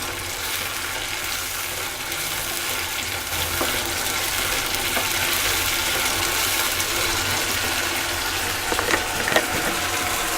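Onions frying and being stirred in a pan, a steady dense sizzle with scraping stir sounds throughout, no voices.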